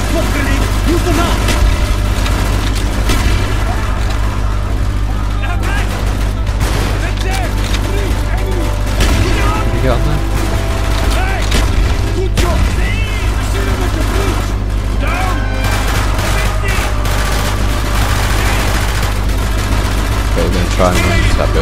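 Light machine gun bursts and explosions in Call of Duty Black Ops on the Wii, a dense, continuous barrage of gunfire and booms with a steady low rumble under overlapping game voices.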